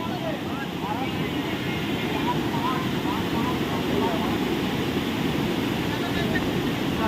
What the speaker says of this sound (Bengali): এবার আমরা ঝর্ণায় এসেছি ঝর্ণাটা খুবই সুন্দর দেখুন